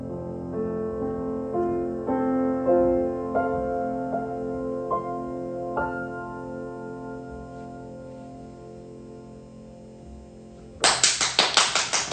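A single hand clap comes near the end of a quiet, sad piano passage at an intimate live-streamed performance, followed by a few more faint, scattered claps.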